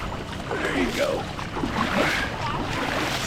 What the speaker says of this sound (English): Splash them.